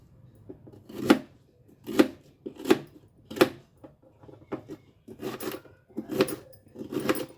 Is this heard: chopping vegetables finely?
yes